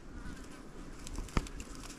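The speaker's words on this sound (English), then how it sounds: "Darn mosquitoes." Mosquitoes buzz faintly and steadily around a forest gifting station during outdoor Bigfoot scouting, a thin insect whine under ambient outdoor noise with one brief sharp tap near the middle.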